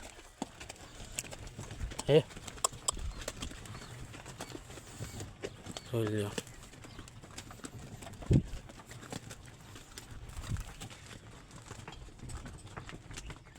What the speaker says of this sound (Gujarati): બાકી જો બળદ જતા હોય એની મજા જ આવે